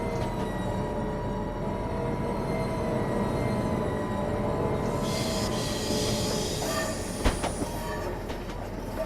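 A simulated train rolls along rails in a train simulator game on a London to Faversham high-speed route. A steady rumble runs throughout, and wheel squeal and rail clatter build toward the end.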